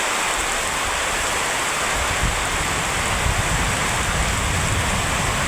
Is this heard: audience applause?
no